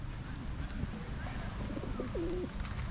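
Pigeons coo softly in a Hove park garden, a low repeated burbling call set against steady outdoor background noise, with faint chirps of other birds.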